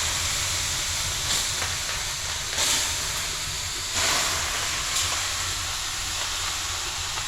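Steam hisses loudly and continuously as hot water is poured onto the stove of a portable sauna tent at a winter mountain camp, with a few sharper surges of hiss through the broad noisy wash.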